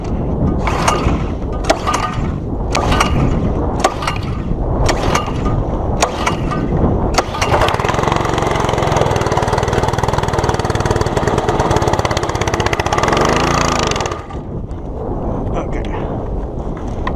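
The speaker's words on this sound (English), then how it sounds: "I'm going to turn it on, pull the choke out, and we're going to let this thing rip and see" A Simpson MSH3125 pressure washer's Honda GC190 engine is pull-started with several sharp recoil tugs, then catches and runs loud and steady nearby before its roar drops off near the end.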